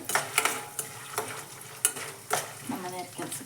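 Food fries in a little oil in a pan, a steady soft sizzle broken by close scraping and clinking as it is stirred; no one speaks.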